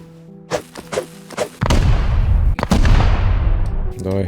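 Explosions during a base raid in the video game Rust: a few sharp thuds, then a long rumbling roar of blasts with more hits, loud and close, with someone talking in between.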